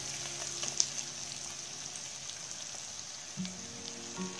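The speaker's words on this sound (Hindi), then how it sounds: "ये आप देख सकते हैं मसाला अच्छी तरीके से फ्राई हो गया है" Masala sizzles and fries in a pan on medium-low heat for egg biryani, a quiet, even crackle with small pops and light spatters, steady throughout.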